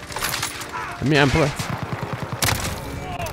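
A Call of Duty: Modern Warfare multiplayer match with repeated sharp shotgun blasts and other gunfire going off under a player's chatter, with a loud burst near the middle and another near the end.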